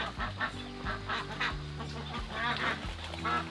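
Ducks playing in a backyard pool, a rapid string of close honking quacks in uneven bursts, fairly quiet and alone with no talk.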